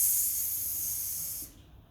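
A voice produces a steady, sustained hissing S sound, held for about a second and a half before cutting off into quiet; the voice is imitating a hiss while demonstrating a speech sound.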